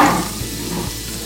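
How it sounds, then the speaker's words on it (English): Garlic hitting a little oil in a pan, giving a soft, steady sizzle with faint spattering and a couple of low clunks, close and alone, with no talk. "Got a pan, got a little oil in that pan"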